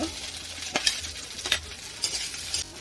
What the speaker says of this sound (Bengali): এখন ভালো করে ডিমটা ভাজা হয়ে গেছে এখন আমি আলুটা দিয়ে দিব